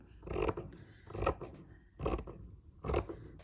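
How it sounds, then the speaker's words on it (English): Four rhythmic snips of paper-crafting scissors cutting through material for a junk journal, evenly spaced and close, each a crisp scraping crunch. "Really need my material scissors for this"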